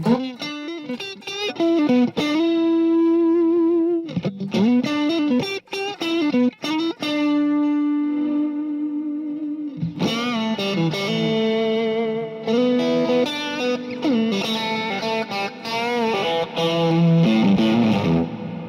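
Loud distorted electric guitar playing chords and sustained notes through an amp, with a noticeable reverb tail, a brief pause midway before playing resumes.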